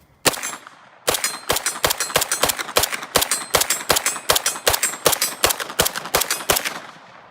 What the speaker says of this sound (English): this is some Remington 9mm ammunition here that we're about to rock and roll with. So let us pop some bullets.